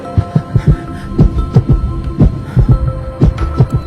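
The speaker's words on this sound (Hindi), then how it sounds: "शिवा की धड़कन तेज हो जाती है।" A heartbeat sound effect races with rapid, regular double thumps. The beats are loud and low, throb over a steady background hum, and no one speaks.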